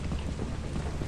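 Rain pours steadily in a thunderstorm in the video game Lethal Company, a loud dense hiss with low rumble, alone and continuous for a moment.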